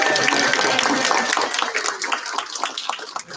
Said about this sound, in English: can I get a round of applause for Lieutenant Capana, Corporal McLaughlin,